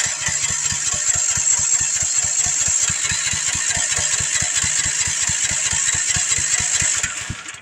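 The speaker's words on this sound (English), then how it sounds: "So I got the gas off and just turn it and just crank on it." A motorcycle engine cranks steadily on a sodium-ion starter battery, an Acoucou YTX9A-BS rated 250 CCA, its rhythmic starter chugging loud and close for about seven seconds before it trails off, with no one talking.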